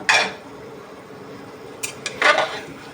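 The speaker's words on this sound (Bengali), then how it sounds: "এখন আমি ঢাকনাটা খুলে দেখছি কি অবস্থা" A lid comes off a pot of mutton rezala with a short metallic clatter, then a second cluster of clinks and scrapes follows about two seconds later; there is no talk.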